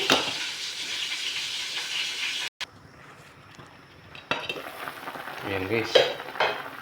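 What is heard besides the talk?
fish soup with radish boiling in pot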